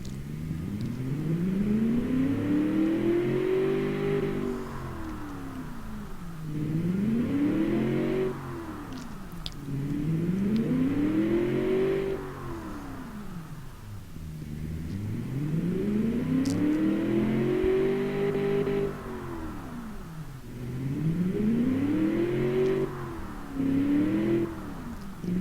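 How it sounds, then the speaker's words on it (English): Car engine with a low rumble, revved repeatedly while driving: rising and falling revs roughly every four seconds, the pitch sweeping up then dropping back, loud and steady with no talk. "It's got a nice low rumble. It's not a very responsive engine,"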